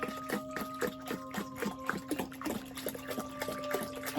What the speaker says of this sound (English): Okay, fill this with water.